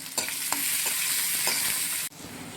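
A handful of onion and some garlic frying in oil for tempering, a close, bright sizzle broken by several quick stirring scrapes, cutting off abruptly near the end.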